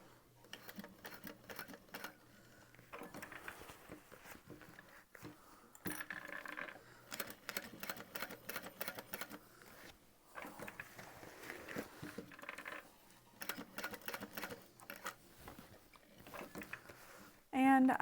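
A sewing machine stitches a bag's connectors in short, quiet bursts with gaps between runs, heard close but faint while a person talks over much of it.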